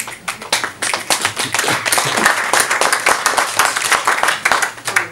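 Audience clapping at a poetry reading, a small crowd applauding in bursts with distinct individual hand claps, fairly close and lively, rising and dipping in waves across the stretch.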